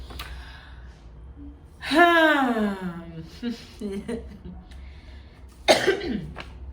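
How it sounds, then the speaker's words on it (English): A person coughs in a strained, hoarse burst near the mic, followed by a few weaker coughs and another sharp cough near the end, with quiet room noise between. "I'm sorry guys, I'm still coughing."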